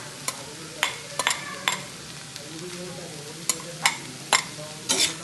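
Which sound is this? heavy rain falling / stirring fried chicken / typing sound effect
stirring fried chicken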